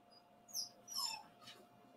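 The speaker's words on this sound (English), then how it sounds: "I think my doggy's trying to get in" A dog whimpers while trying to get in, giving three short, high, thin whines spaced apart and faint against a quiet room.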